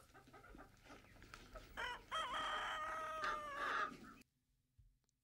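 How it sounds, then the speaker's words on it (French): A rooster crows once in a long, loud, harmonic cock-a-doodle-doo played back from a recording, preceded by a brief noisy lead-in and followed by sudden silence. "Eh oui, c'était un coq, puisque c'était le bruit du matin."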